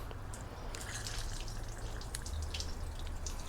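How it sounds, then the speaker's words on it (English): Water drains and hisses out of a chassis flushing kit still attached to a garden hose as its pressure bleeds off, a steady, fairly faint wash with light dripping spatters, no voices. "I'm gonna let this thing run out of pressure real quick."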